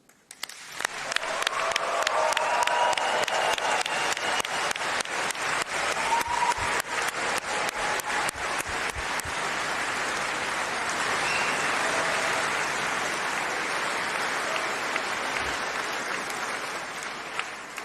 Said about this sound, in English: Let's give a round of applause and a huge cheer